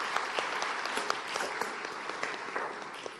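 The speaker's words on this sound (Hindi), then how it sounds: "तालियां बजा के स्वागत कीजिए।" Audience applause at a National Girl Child Day campaign launch event, a dense, sustained wash of many hands clapping at an even level throughout, with no voices over it.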